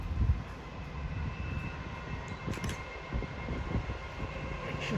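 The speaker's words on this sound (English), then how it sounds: "Coming through now is the log train." A Class 70 diesel locomotive hauls a log train past the platform at Wrexham General, a rumbling engine and rolling wagons at moderate distance with a steady, slightly swelling drone and no talk.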